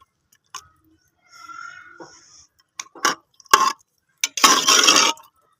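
Beef korma being roasted and stirred in a pot. A spoon clinks and scrapes now and then, with a louder burst of sizzling and stirring near the end and quiet gaps between.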